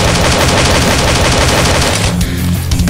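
Loud, rapid automatic gunfire from a gun in the Slendytubbies 2D Revolution video game, a dense continuous burst that cuts off near the end, with no talking.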